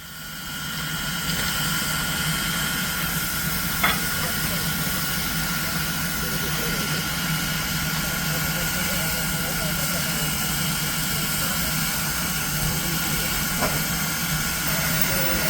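Steam locomotive No 411 stands at a station on a test run, releasing a steady, close hiss of steam over a low engine rumble, with a couple of faint metallic clanks.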